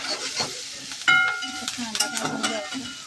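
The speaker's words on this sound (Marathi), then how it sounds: "ह्यामध्ये आपण सर्वात आधी कांदा घालणार आहोत आणि कढीपत्ता." Onion and curry leaves fry in a pan with a crackling sizzle and sharp pops, while a utensil stirs and clinks against the metal close by.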